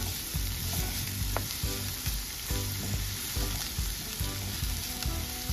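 Onions and celery sauté in a pan for Jamaican gungo rice, giving a steady, close sizzle and frying crackle with occasional stirring scrapes throughout, no talking.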